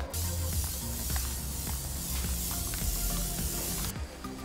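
An aerosol can sprays a coat of Plasti Dip onto a car, giving a continuous close hiss for about four seconds that cuts off near the end, with faint handling knocks underneath.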